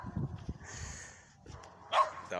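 A dog barks briefly at close range, a low bark followed by a sharper, higher yelp, set against a murky indoor background.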